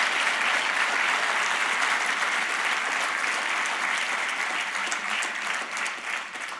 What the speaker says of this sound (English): So join me with a round of applause for those guys.